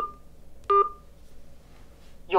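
Two short telephone keypad tones sound a moment apart while a voicemail password is entered, followed by the start of a third, against quiet background.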